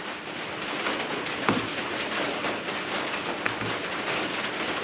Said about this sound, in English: You may be able to hear it, but it's raining.